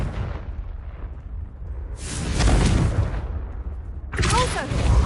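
A Confringo blasting spell goes off in the Hogwarts Legacy video game, a loud boomy explosion swelling around the middle of the clip and followed by another crackling burst near the end, over a constant rumbling game soundscape.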